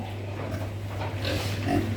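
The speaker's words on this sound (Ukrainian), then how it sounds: "Свиней нас хватає, ростуть." Pigs grunting in a pen on a small Ukrainian village farm: a steady, close, dense mass of low snuffling grunts with a constant background hum and no speech.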